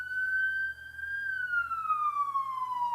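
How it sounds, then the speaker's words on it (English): A lone siren wails steadily nearby, holding a high tone before gliding slowly downward as it fades off, with no talking over it. "now here comes a siren"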